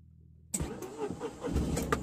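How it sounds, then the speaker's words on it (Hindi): Tata Nano car engine starting from cold, a sudden close cranking catch that settles straight into a rough, lumpy running idle. "तो देखिए नैनो को कर चुके हैं स्टार्ट,"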